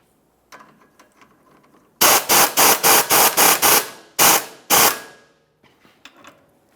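A ratchet tightens the lower outer tie rod nut on a 2007-2018 Jeep Wrangler. Close, sharp clicking comes in quick bursts: about eight rapid strokes in a row, a short pause, then two more, with faint handling noises around them.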